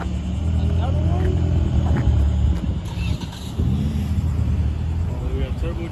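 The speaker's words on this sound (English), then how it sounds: "we got turbocharged Toyota Corolla. You hear that thing?" A turbocharged Toyota Corolla engine rumbles loudly at a car meet, a steady low drone with brief surges, mixed with crowd noise and people talking nearby.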